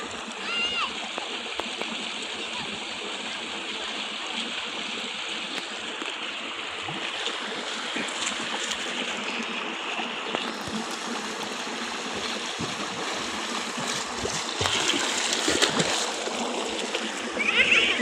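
Children splash and play in canal water flowing into a rice field, with continuous rushing, splattering water and occasional young voices mixed in, growing livelier toward the end.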